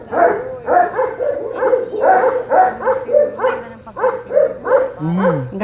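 Dog barking repeatedly in quick, loud bursts close by, with a whimper near the end, while a person talks alongside.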